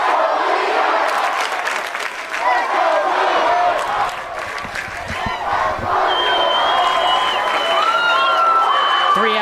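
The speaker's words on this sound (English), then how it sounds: "And listen to this crowd." A large crowd at a high school baseball championship game cheers and shouts loudly and continuously, with whoops and whistles rising above the steady roar.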